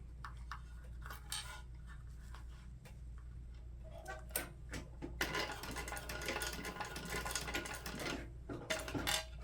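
A sewing machine runs a basting stitch across the end of a small fabric bag's tab, giving bursts of quick, close mechanical ticking that build into a steadier, denser run toward the end, with no talk.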